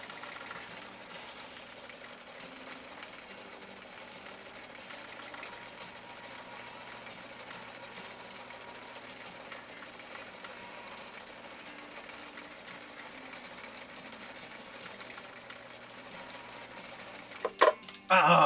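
A Husqvarna Viking 6010 sewing machine, which had been dropped on concrete, runs with a steady, continuous mechanical whir and rattle for a long stretch before a couple of short bumps and clunks at the end.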